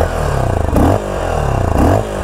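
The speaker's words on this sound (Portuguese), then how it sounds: "A gente sente o fôlego do motor já no funcionamento." Honda Nova SHI 175 EFI motorcycle engine running at a steady idle, a loud, close, rhythmic mechanical thrum that swells and eases in regular pulses, with no voices.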